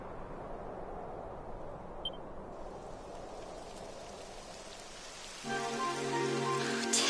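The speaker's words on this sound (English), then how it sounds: "It would have to go and start raining, wouldn't it?" Steady rain hisses in the video game Dragon Quest XI, a dense even patter that swells slightly louder as a musical tone rises underneath toward the end, with no talking.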